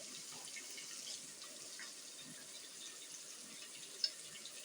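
Water runs faintly into a pan of spiced cauliflower and potato, a soft, low trickling pour with a small splash near the end, quiet and alone.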